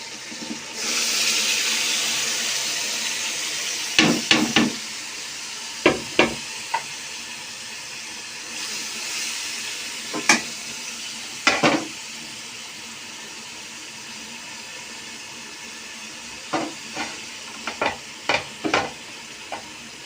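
Boiled mustard greens being stirred into fried tomatoes in a pan for sarson ka saag, a steady frying sizzle broken by repeated sharp scraping strokes of the spoon against the pan, close and fairly loud, with no talking.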